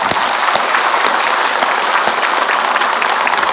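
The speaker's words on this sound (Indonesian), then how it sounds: "Tepuk tangan dulu." Loud, dense applause from an audience at an Islamic religious gathering, a steady sustained wall of clapping with little variation throughout.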